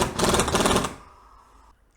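A pneumatic impact wrench rattles hard for about a second while running down a strut mount nut on a 2010 Kia Rio, close and loud, then cuts off into quiet shop background.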